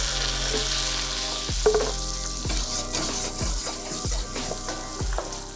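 Garlic, butter, chili and tomatoes sizzle steadily in an oiled pan, a loud continuous crackle with a few soft stirring scrapes and knocks recurring about once a second, no talking.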